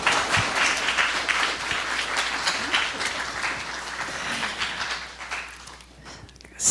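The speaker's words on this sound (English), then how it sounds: "Let's give our panelists a round of applause." An audience at a Sunday church service applauds its panelists, steady sustained clapping from many hands that fills the room for several seconds before tapering off near the end.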